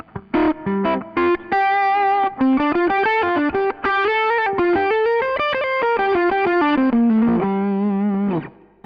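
Electric guitar through a Fuchs Four Aces 4-watt Dumble-inspired amp plays a loud, continuous melodic phrase of quick single notes and held tones, driven with some distortion and effects, alone with no talking.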